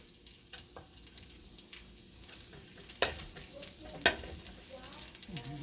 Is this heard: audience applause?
no